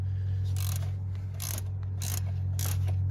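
Socket ratchet loosening a bolt on a 1989 Ford Ranger 2.3: four evenly spaced bursts of rapid ratcheting clicks, close up, over a steady low engine-bay hum.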